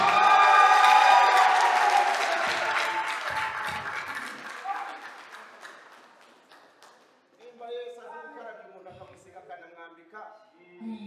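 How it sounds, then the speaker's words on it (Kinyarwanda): A church congregation applauds loudly at the start, with cheering voices mixed in, the clapping fading over several seconds before a voice speaks alone near the end. "dukomere Imana amashyi mu mishyi"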